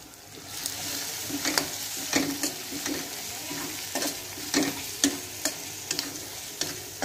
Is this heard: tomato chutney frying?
yes